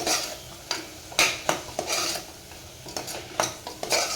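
A spoon scrapes and clatters against a pot as a mixed-pulse curry is stirred, irregular knocks and rubbing strokes close by, with a soft sizzle beneath.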